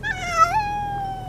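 Simba, an unhappy cat riding in a car, lets out one drawn-out, rising then falling meow, close and clear over a low steady engine hum.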